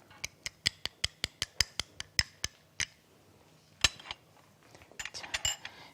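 A utensil clinks quickly and rhythmically against a bowl while a seasoning sauce of minced garlic, ginger, syrup and sesame oil is stirred, then the clinks turn sparser and more irregular. The sound is close, with no voices.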